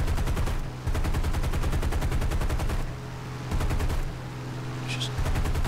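Rapid bursts of aircraft machine-gun fire in War Thunder, several long rattling volleys separated by short pauses over a steady engine drone, loud and close.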